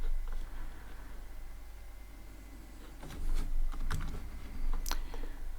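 A computer keyboard is typed on in a quiet room, with soft scattered clicks that grow into a few quick, louder bursts of keystrokes.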